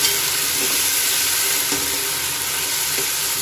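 Ginger garlic paste fries in a pan for chicken biryani, giving a loud, unbroken, close sizzle with a steady hiss and faint stirring scrapes beneath it.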